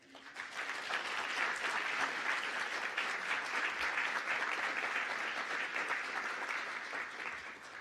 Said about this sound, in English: can we please give a round of applause to our families and friends out there?